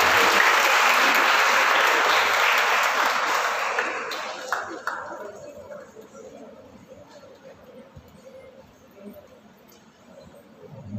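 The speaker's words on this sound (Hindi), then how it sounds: "जोरदार तालियां" Loud, dense applause from a quiz competition audience on the Indian freedom movement, clapping for a participant, fading over several seconds into scattered claps and murmuring chatter.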